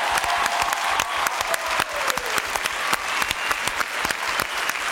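A studio audience at a French television variety show breaks into applause, dense rapid clapping that stays loud and steady throughout, with a few sharper claps standing out up close.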